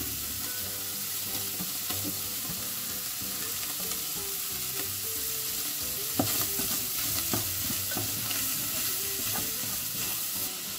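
Sausages, onions and peppers fry in a pan over lowered heat, a steady close sizzle with occasional stirring scrapes and pops throughout.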